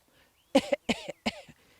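Three short, sharp coughs in quick succession, close and fairly quiet, with brief pauses between them and no talking.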